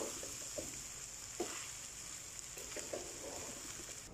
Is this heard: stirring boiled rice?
yes